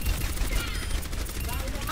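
An Overwatch hero fires in a continuous, dense burst of rapid video game gunfire that stays loud and steady for the whole two seconds, with no breaks.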